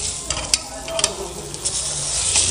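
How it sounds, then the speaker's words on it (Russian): Eggplant slices frying in a pan after being mixed with cane sugar and salt, a steady sizzle with a few sharp crackles and spatters close by, no voices. "Сейчас мы все это дело с вами поджарим на сковородке."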